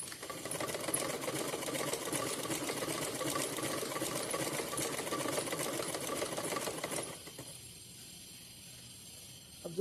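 A sewing machine stitches fabric for a small Kanha ji outfit, a loud continuous rapid whir close by that runs for about seven seconds before stopping abruptly, leaving faint background hum.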